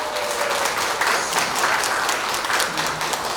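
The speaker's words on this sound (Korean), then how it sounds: "독립운동가로 활동하고 있는 스스로에게 큰 박수 부탁드립니다" A crowd applauds steadily throughout, dense clapping at an even loudness with no pauses.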